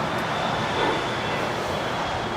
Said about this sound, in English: This is a Cessna 750 Citation departing to Las Vegas, Mountain Aviation Flight 946